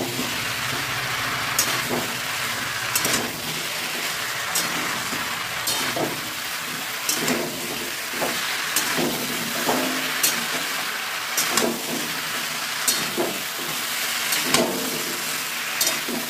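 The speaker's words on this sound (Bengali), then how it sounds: "সেদ্ধ করা এসবগুলো দিয়ে দিলাম। সেটাও কষাবো আলু আর মশলার সঙ্গে।" Boiled vegetables stirred and sautéed with potatoes, spices and oil in a home kitchen pan, giving a steady close sizzle broken by repeated scraping stirs and clinks every second or two, with no talking.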